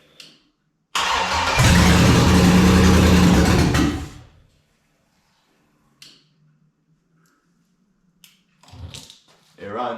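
A 1965 Chevrolet C10 pickup fitted with an LS V8 on standalone wiring cranks and catches, then runs loudly for about three seconds before cutting out, followed by quiet with brief faint clicks and a little background noise.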